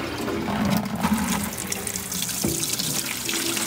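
Old fuel from a 1960 MG MGA 1600 Roadster tank being dumped out, a steady close splashing pour with continuous gurgling, no voices.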